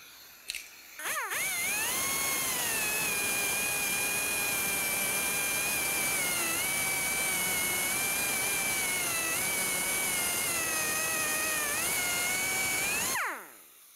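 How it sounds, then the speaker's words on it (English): A high-pitched grinding whine runs steadily for about twelve seconds, the tone wavering slightly as the abrasive cutting wheel bites into a metal door rivet on a 2001-2005 Ford Explorer Sport Trac, loud and close. "I'm gonna use a cutting wheel and I'm gonna try to be as careful as possible"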